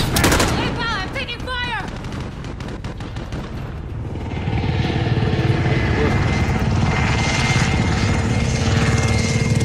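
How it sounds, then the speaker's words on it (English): A helicopter in Call of Duty: Warzone passes overhead, its rotor drone swelling into a loud, sustained roar after an opening stretch of rapid gunfire and a voice chattering. "Is there something in that building you can use to take a chopper down?"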